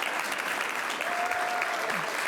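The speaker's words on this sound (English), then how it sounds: "Let's give him a round of applause." Steady applause from a crowd at a governor's press event fills the whole moment, dense and even, with a brief tone rising faintly within it.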